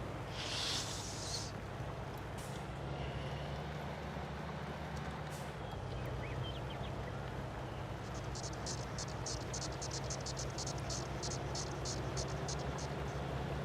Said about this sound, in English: there's bugs in this thing that he's got that sound like cicadas.